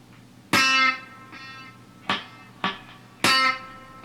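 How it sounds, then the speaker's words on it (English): A single-note country train beat lick on electric guitar with ghost notes, played slowly: a few bright sustained picked notes ring out between short muted ghost plucks, close and clean with no talking. "basic single note train beat with ghost notes"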